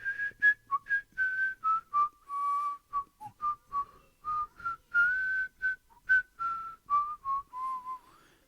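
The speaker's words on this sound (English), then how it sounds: "I was whistling that all the time." A person whistles a melodic tune alone and close by, in a string of short, clear phrases separated by brief pauses.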